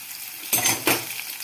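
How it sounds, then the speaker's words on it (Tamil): Green mango pieces frying in hot oil, heard as two short, bright bursts of sizzling and spatter, close and loud, with a faint steady fry between them. "மாங்காய் எண்ணெயில் வேகட்டும்."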